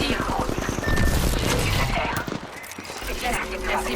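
Bursts of rapid gunfire and booming impacts in the battle royale shooter Apex Legends, loud and dense, layered over game audio with a voice speaking in the mix.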